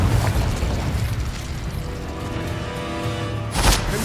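A fiery Incendio spell cast in the Hogwarts Legacy video game bursts out as a sustained, loud whooshing blast with crackling noise, flaring up again strongly near the end.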